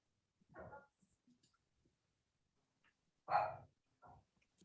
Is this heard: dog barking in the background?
yes